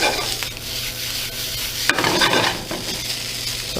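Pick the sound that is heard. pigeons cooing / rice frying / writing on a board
rice frying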